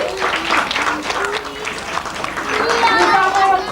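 Audience applause at a film club general meeting as a costumed child is introduced, a modest crowd clapping loosely with voices talking over it at close range.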